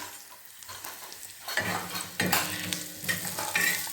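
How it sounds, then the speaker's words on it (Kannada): Onions frying in a pan, a quiet start that swells into a strong close sizzle with stirring scrapes and crackles, no talk. "ಈ ಥರ ಫ್ರೈ ಆಗಿಬಿಡ್ತಾವೆ ನೋಡ್ರಿ ಉಳ್ಳಾಗಡ್ಡಿ ಎಲ್ಲ"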